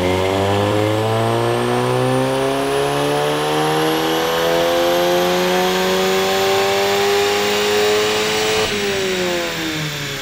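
A car with a flex fuel tune runs on a dyno using 93 octane fuel with 10% ethanol, the engine revving steadily up through the gears in one loud, continuous pull, with harmonics climbing and a brief dip near the end.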